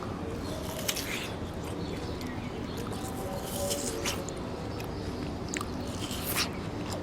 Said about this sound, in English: I'm gonna start smacking on this watermelon.